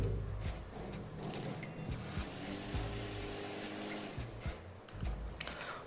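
Whirring and rattling from a small motor powered by an old mobile phone motherboard, spinning steadily and lightly knocking against a hand, with irregular clicks and taps over a continuous mechanical buzz.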